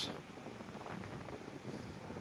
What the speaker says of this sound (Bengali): ওয়েদারের অবস্থা তেমন ভালো না প্রচণ্ড বাতাস ওই দেখেন গাছের বাতাস প্রচণ্ড বাতাস